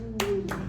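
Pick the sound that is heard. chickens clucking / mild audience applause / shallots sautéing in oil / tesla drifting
mild audience applause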